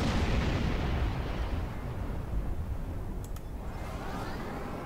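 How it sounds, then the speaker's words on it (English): Photon torpedoes fire in a Star Trek starship combat game, a sustained roaring burst with rumbling low end that fades slightly, with a couple of faint high pings near the end and no talk. "Have one of my photon torpedoes."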